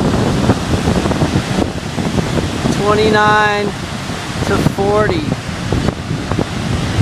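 Wind gusts of around 29 to 40 miles per hour buffet the microphone with heavy roaring noise, while kicked-up surf crashes underneath and someone speaks over the din.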